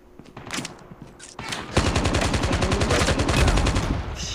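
Gunfire in the Call of Duty Mobile shooter game, a loud sustained automatic burst firing rapidly after a few scattered earlier shots, with game effects in the background.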